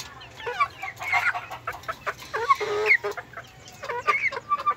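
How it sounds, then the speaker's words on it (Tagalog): Hens at a small backyard poultry farm cluck repeatedly in a busy, overlapping chorus, close and fairly loud, with short calls coming in uneven bursts throughout. "ito yung mga sinilik natin mga inahin."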